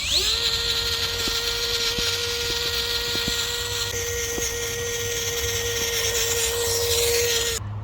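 A small 030 55-turn brushed motor in a CR18 6x6 RC crawler at full throttle, a steady high-pitched electric whine with faint gear clicks, running alone for several seconds close up.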